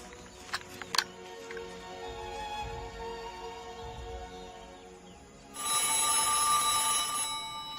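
A telephone rings in an Indonesian historical war film about General Sudirman. A few faint knocks come first, then a loud, bright, continuous ring lasts about two seconds.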